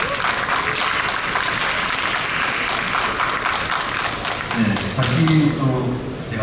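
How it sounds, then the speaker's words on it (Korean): An audience at an architecture seminar in Busan applauds loudly and steadily as a guest architect is introduced; near the end the clapping continues beneath a speaker's voice over the hall's sound system. "여러분들께서는 큰 박수 부탁드리겠습니다"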